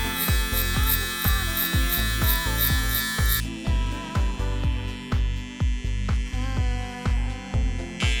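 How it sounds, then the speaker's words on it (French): A Gamma Xcell hair clipper buzzes close up with a steady electric hum, as a rapid train of regular crackling pulses comes through the cut hair, and no one speaks. "Comme dit Benjamin, on entend vraiment les cheveux crépités."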